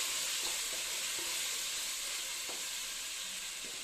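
Steady hiss and sizzle of masala curry frying in a pan for masala vada curry, with faint scraping as the mixture is stirred, quiet and continuous without talk.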